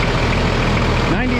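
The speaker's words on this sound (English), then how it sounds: "This is generally the tractor that goes on the baler." Old Oliver farm tractor, normally used to pull a baler, idling nearby with a steady low diesel rumble, loud and continuous with a slight shift in tone near the end.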